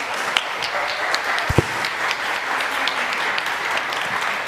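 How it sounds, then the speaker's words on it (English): A conference audience at a EuroSciPy 2023 lightning talk session applauds the speakers with dense, steady clapping at moderate loudness, with a few sharper claps standing out and no speech over it. "a big round of applause to all the speakers today"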